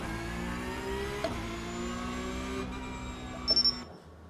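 A race car's engine in the iRacing sim pulls away from a standing start in first gear, a steady droning note with rising harmonics that climbs in pitch, then cuts off near the end.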